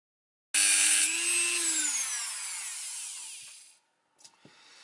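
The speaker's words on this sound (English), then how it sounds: "I think I might need to actually saw this one open here, because as I suspected, this one might be aluminum heatsink here" A saw cuts open the aluminum heatsink of a Philips dimmable LED bulb. A loud, close, harsh grinding runs for about three seconds and fades out, followed by a few small knocks.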